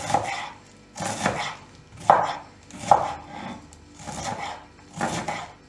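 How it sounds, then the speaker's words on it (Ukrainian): A knife chops cabbage into strips for a winter cabbage and cucumber salad, six or so distinct cutting strokes in a steady rhythm, close and clear with no talking. "можете нарізати, як ви любите. Можете грубшою соломкою, можете дрібненько різати."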